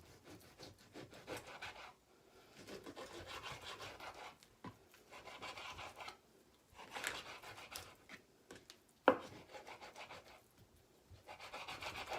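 A dull knife saws through pork sirloin, cutting it into cubes on a board with quiet, close rubbing strokes that come in short bursts between pauses, plus one sharp knock.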